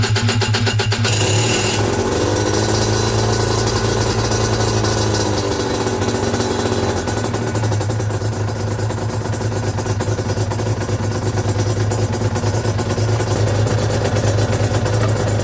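An Aprilia RS125 with a Rotax 122 two-stroke engine, repaired after a coolant leak, runs continuously and loudly nearby with a steady, buzzing idle that holds even throughout.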